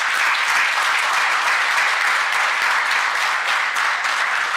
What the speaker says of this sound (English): can we end this with a big loud applause